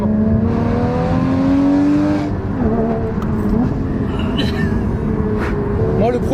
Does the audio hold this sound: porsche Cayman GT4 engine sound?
yes